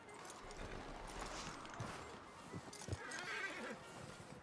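In Red Dead Redemption 2, a horse whinnies over steady outdoor ambience, with soft hoof clops and faint movement underneath.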